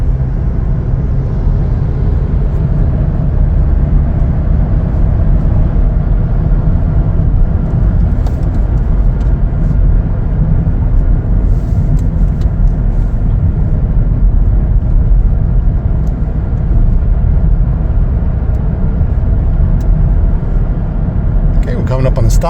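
A 2024 Chevrolet Blazer 2LT accelerates, heard from inside the cabin as a loud, steady engine and road drone. It holds constant for over twenty seconds.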